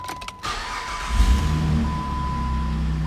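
A used Jeep Grand Cherokee starting up, a short clicky crank that catches and settles into a steady, smooth close-up idle, heard on its own.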